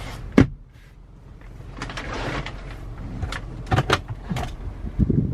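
The armrest compartment lid of a 2017 Toyota Camry slides forward with a few close, sharp clicks and soft scraping rattles inside a quiet car.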